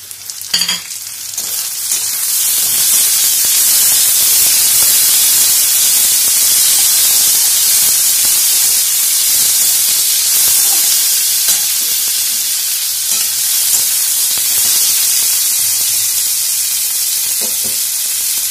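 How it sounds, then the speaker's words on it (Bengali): Chopped tomatoes sizzle steadily in a hot pan with browned onions, a loud continuous frying hiss with occasional stirring scrapes and no talk. "এবার আমি এর মধ্যে টমেটো কুচিগুলো দিয়ে নেব"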